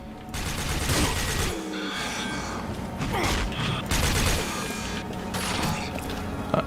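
Rapid bursts of gunfire from the video game Rage, clattering in repeated volleys mixed with mechanical reloading clicks and ratcheting, loud and busy throughout.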